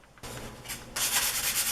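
Close, steady sanding on wood, a rough rasping rub that starts abruptly and grows louder and more continuous partway through.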